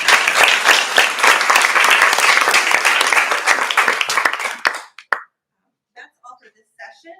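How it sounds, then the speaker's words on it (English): A room full of people gives a round of applause for student capstone presentations, with dense, sustained clapping that tapers off and stops after about five seconds, followed by a few faint scattered sounds. "guys just give the CSB students one more round of applause?"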